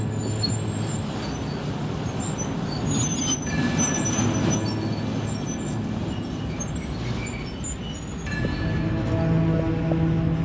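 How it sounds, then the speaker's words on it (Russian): A bus for refugees idling as passengers board, a continuous loud engine rumble with hissing air and clattering, a noticeable shift in tone near the end, and no speech. "Наш автобус заходит на посадку."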